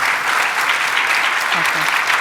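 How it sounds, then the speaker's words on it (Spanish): Sustained applause from a seated audience at a round-table discussion on Spanish painting fills the whole moment, steady and fairly close, with a brief murmur of voices beneath. "Un aplauso."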